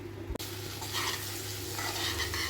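Sesame seeds frying in a pan for curry leaf chutney, a steady close sizzle with soft stirring scrapes after a brief knock at the start, no talking.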